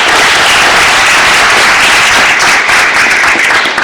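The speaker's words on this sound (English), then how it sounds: "How about a round of applause for the ladies?" Steady, dense applause from a town hall audience honoring a group of women, filling the room evenly without a break and with no voices rising above it.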